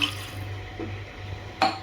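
Water is poured into a pot for cooking basmati rice, making a faint, low, steady trickling with a brief splash at the end.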